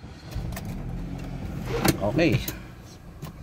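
A car engine restarted and running after overheating makes a low, steady rumble at moderate distance, with a brief clunk and someone speaking over it.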